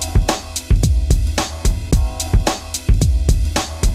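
Processed drum loop with a filter plugin shaping the tone: punchy kick and snare hits in a steady groove, close and loud, with no talking.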